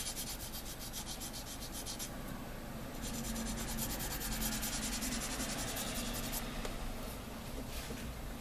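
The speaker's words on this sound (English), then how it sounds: "To sand this down here" Sandpaper rubbing along the fuselage of a plastic MPC Star Wars Rebel Transport model kit, an X-Wing part, in steady close scratchy strokes that continue without a break and with no talking.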